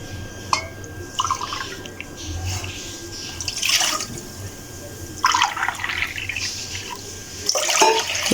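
Two cups of water poured for kahwa, a cold and cough remedy, splashing in irregular bursts at moderate loudness over a steady low background hum.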